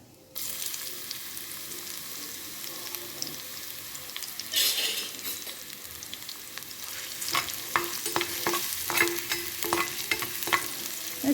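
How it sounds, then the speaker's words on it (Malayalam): Green chillies and ginger-garlic paste sautéing in hot oil, a steady sizzle with a surge midway and then a run of rhythmic spatula scrapes and taps against the pan, no speech. "ഇത് നമുക്ക് ഈ എണ്ണയിലോട്ടിട്ട് നന്നായൊന്ന് വഴറ്റി എടുക്കാം ആദ്യം ഇഞ്ചി വെളുത്തുള്ളി പേസ്റ്റ് ഇടാം"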